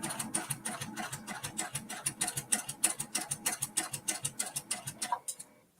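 A sewing machine stitches in the ditch on a Kimberbell mini quilt, running in a steady rapid train of close needle ticks for about five seconds before stopping abruptly, with no voices.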